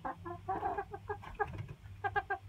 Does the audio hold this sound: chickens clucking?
yes